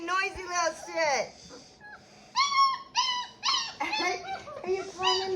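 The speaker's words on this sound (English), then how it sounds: "Hey, stop whining." A 25-day-old puppy whining close by in high, wavering cries and whimpers, several bursts with short gaps between them.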